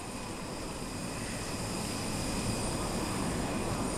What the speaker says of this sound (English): His plane just touched down.